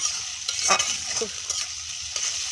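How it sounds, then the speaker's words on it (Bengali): Garlic, chili paste and green chilies fry and get stirred in a hot pan, a steady close sizzle with a few scraping stirs of the spatula. "রসুন আর পেস্ট কাঁচামরিচ ভাজা হয়ে গেছে, লাল হয়ে গেছে।"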